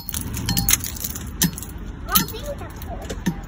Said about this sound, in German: ich muss erstmal abschließen